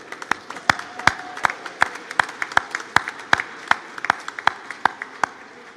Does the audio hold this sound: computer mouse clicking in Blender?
no